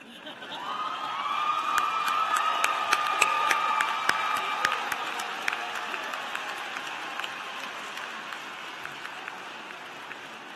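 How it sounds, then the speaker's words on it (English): Law school graduates at the North Carolina Central University spring 2016 commencement stand and applaud in a big, sustained wave of clapping, with cheers and whoops rising over it before slowly easing off. "Everybody just stand up and clap for somebody."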